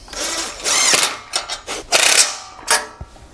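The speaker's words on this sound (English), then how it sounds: "then we'll go and tighten them up with a 17mm socket and wrench" A 17mm socket wrench ratchets as trailer bracket bolts are tightened on a MicroSport trailer, giving close, uneven clicking and grinding strokes in short bursts with no talk.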